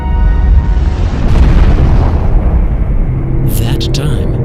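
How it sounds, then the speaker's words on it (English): A huge, deep boom rolls out for the Big Bang, a loud explosion rumble that swells and slowly decays into a long low roar, with a few sharp crackles near the end. "That time, when our universe apparently sprung forth, has come to be called the Big Bang."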